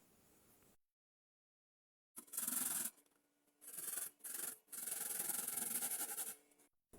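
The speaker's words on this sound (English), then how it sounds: "So I pick one of the carrots and grate them one after the other." Carrots are rubbed against the smoother side of a kitchen grater in a home kitchen, giving close, raspy scraping strokes in several bursts separated by short pauses, with no talking.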